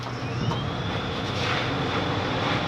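Electrostatic powder coating spray gun blowing powder onto unprimed metal parts, a steady loud broadband hiss with a continuous airy rush throughout and no pauses.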